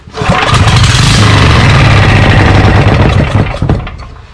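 A Honda GX390 small gasoline engine, run with no carburetor, fuel tank or exhaust, cranks, catches and runs loudly at a rough, buzzing idle for several seconds before cutting off.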